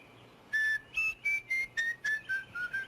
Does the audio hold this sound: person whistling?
yes